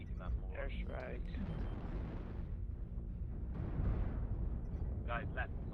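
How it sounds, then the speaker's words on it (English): An airstrike in MechWarrior Online lands as a continuous, heavy rumbling roar of explosions lasting several seconds, with voices speaking over the blasts. "Airstrike."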